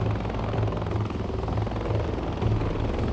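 Helicopter rotors in the combat flight game Heliborne: a steady, loud, rhythmic thumping of blades over a constant engine hum, with no voices.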